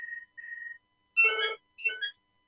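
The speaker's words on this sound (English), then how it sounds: "Sorry, my phone is ringing." A mobile phone rings alone in a quiet room: two short electronic tones, then two brighter melodic bursts of the ringtone, clear and close.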